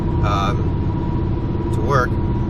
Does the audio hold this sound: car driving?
yes